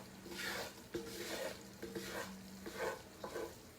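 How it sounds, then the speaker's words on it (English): A roux stirred steadily in a pan over fairly high heat, giving a soft scraping and gentle sizzle in repeated strokes, fairly quiet and close with no talk. "with a roux, you gotta stir it, especially because I got the fire kind of up a little bit so it don't burn"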